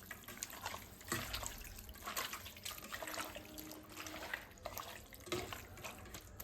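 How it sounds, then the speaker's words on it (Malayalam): Water is poured into a cooking pot of beef roast with coconut pieces, a faint, steady trickling splash with a few louder gushes and no voices. "കുറച്ച് വെള്ളം കൂടെ ഒഴിക്കാം."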